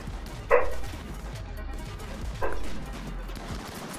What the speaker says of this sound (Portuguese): minha cachorra tá latindo